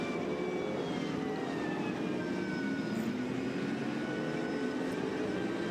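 A race car engine revs during the Nürburgring 12-hour race, heard as a steady, distant drone whose pitch keeps rising and falling.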